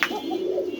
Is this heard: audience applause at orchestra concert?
no